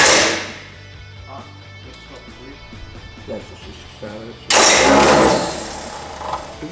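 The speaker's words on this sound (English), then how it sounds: "So the starter went." A 1934 Ford coupe barn find with no fuel gives a low, uneven starter crank that begins faint and later swells into a louder, harsher burst near the end.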